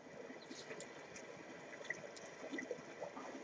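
Flowing river water in the video game Dragon Age Inquisition makes a continuous soft rushing and trickling, faint and steady, with slight watery splashes throughout.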